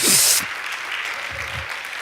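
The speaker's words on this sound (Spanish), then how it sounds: "Dale un aplauso al Señor en esta noche." A church congregation applauding during an evening service, a steady wash of clapping from many hands that carries on for a couple of seconds after a short louder burst at the start.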